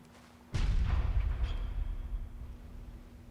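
A single heavy cannon blast in the video game Bloodborne, a sudden deep boom followed by a long rumbling decay and faint ringing tail, with no speech over it.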